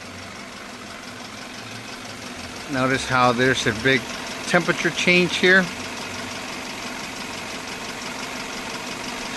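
A car engine with a suspected clogged downstream catalytic converter idles steadily with a low, even hum, while someone talks briefly over it midway.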